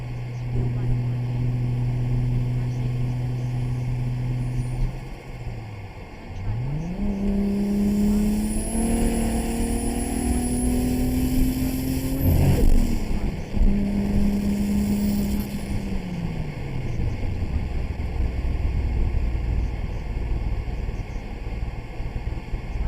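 Turbocharged MK4 Toyota Supra in the GTA 5 game, its engine droning steadily, then revving up through rising gear pulls, a brief lift around the middle and another climbing surge that settles back down, loud and close throughout.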